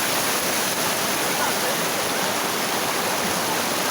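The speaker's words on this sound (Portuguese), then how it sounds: "Tem uma cachoeira aí, ó, top, ó." A waterfall at a natural swimming spot pours steadily, its broad, loud rushing roar filling the whole stretch without a break, close by and unchanging.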